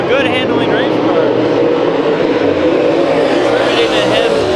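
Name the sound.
race car accelerating at Bakersfield Speedway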